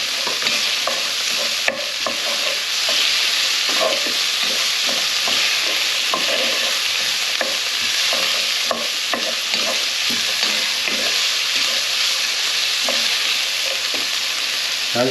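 Sliced vegetables and garlic frying in a pan for a pork stew, a bright continuous sizzle broken by frequent close scrapes and knocks of a utensil stirring them.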